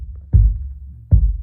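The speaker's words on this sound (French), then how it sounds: "ça c'est le son de l'Amstrad." A kick drum picked up through a homemade subkick microphone built from an Amstrad speaker: two deep, booming thumps about three-quarters of a second apart, each ringing out briefly.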